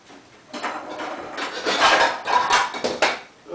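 A cast iron frying pan is set down on a tent stove in a hot tipi tent, giving a few nearby metallic clanks and scrapes over several seconds.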